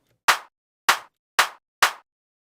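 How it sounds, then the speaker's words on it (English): Four tight, punchy drum machine clap hits, trimmed so the reverb tail is cut short, land in an even rhythm and sound crisp and close with silence in between. "get this really tight, punchy clap"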